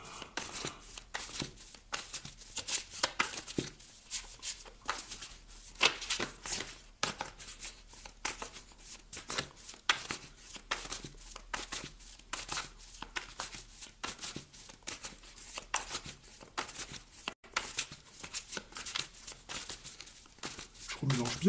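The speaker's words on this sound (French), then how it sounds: "Je mélange bien le jeu pour vous, les cancers." A tarot card deck is shuffled by hand at close range, giving a steady run of soft riffling and flicking card sounds with brief pauses, under quiet French speech.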